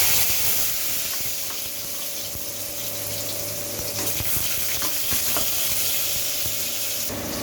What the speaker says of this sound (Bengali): জিরাটা ভাজা হয়ে গিয়েছে, এর মধ্যে আমি আলুগুলো ছেড়ে দেব।